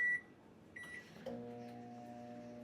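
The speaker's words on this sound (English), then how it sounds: "I'm literally gonna throw this in the microwave for 2 minutes." A microwave oven heating oats starts up after a couple of faint beeps, then settles into a steady low electric hum with a tonal drone, close but quiet, with no voices.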